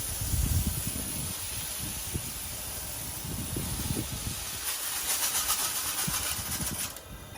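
A 10-gallon jambalaya pot on an outdoor fire churns at a rolling boil, giving a steady roaring hiss with low bubbling rumbles throughout.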